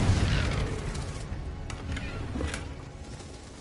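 A Confringo spell explosion in Hogwarts Legacy lands as a low boom that fades into rumbling debris and ambient noise, with a couple of faint sharp pops afterward.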